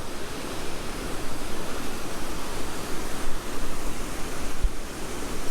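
Waterfall at the High Shoals Mill ruins in North Carolina, giving a continuous broadband rush of falling water that stays steady and fairly loud, with no talk.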